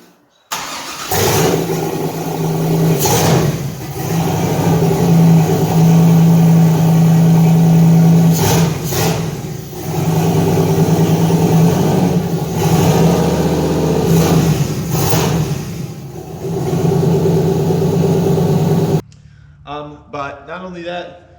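LS-swapped turbocharged C4 Corvette engine cranks and fires up for the first time, then runs with several loud revs and dips before cutting off, with voices briefly heard at the end.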